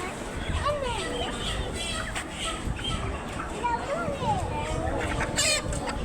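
Chickens clucking at a poultry shop, scattered bird calls rising through busy background noise, with children's voices and chatter mixed throughout.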